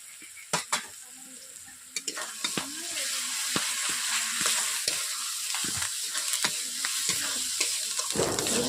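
Ginger paste added to browned onion and garlic in a pan, sizzling steadily up close while a spatula scrapes and stirs in irregular strokes throughout; no voices.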